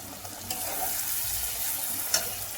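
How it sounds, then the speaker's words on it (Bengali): Ginger garlic paste sizzles steadily in a pan over medium-low flame, a continuous close frying hiss with a few soft stirring scrapes and no talking. "যতক্ষণ না আদার কাঁচা গন্ধটা আদা রসুনের যায় ততক্ষণ পর্যন্ত আমরা এটা কষাতে থাকবো"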